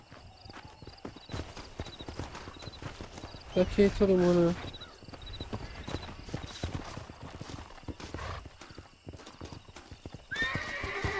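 Horse hooves clip-clop steadily in the Red Dead Redemption video game, and a loud whinny breaks out partway through, with a person talking over the rhythmic footfalls.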